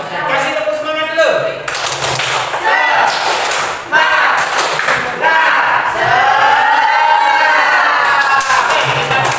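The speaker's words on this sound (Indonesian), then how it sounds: "Kasih tepuk semangat dulu." A classroom of students claps a rhythmic spirit cheer together, loud and close, with shouts and voices mixed into the patterned clapping throughout.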